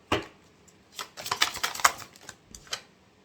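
A tarot card drawn from the deck gives a few soft, papery snaps and shuffles close by, in short scattered bursts with brief pauses between them and no talking.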